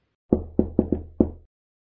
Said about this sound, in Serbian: Za večerom se začulo lupanje na vratima.